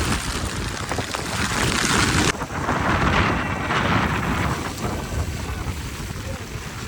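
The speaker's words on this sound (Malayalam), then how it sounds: "നല്ല മഴ കേട്ടോ പെയ്യുന്നത്. മഴ ഹെവി ആയിട്ടുണ്ട്." Heavy rain with gusting wind on a misty hilltop at Thangalpara, Vagamon, in Kerala: a dense, loud, steady roar of falling water and wind noise that fills the whole stretch, with one abrupt shift in tone partway through.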